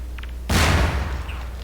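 A grenade goes off in Half-Life 2 with a single sudden, loud blast. Its boom and rumble decay over about a second, following a faint short sound just before.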